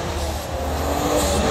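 A BMW X6 SUV engine revs hard under acceleration, a steady, loud broadband roar with rising intensity near the end, heard from inside or close by with no talking.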